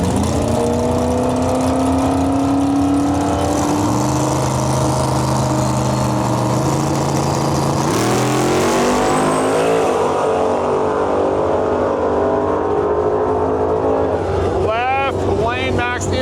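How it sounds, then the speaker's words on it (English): Drag race cars launching down the strip, including a black SN95 Ford Mustang in a Limited Street class, with loud sustained engine roar and rising revs through gear changes, then fading as they pass; a commentator talks over the noise. "Good drag race right there."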